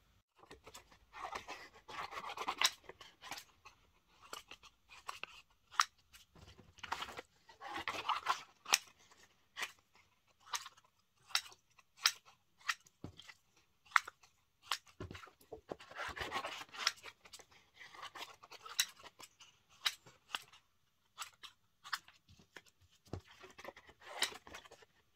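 Scissors cut through cotton quilt fabric pattern pieces for a sling bag. The blades snip and rasp in irregular bursts, with sharp close clicks and longer rough shearing strokes and brief pauses between cuts. No one speaks.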